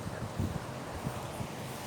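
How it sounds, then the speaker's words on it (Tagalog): Gusty wind buffeting the microphone outdoors in the Emirates, a continuous rumbling rush with a few stronger low thumps, no speech. "Mahangin dito guys ngayon."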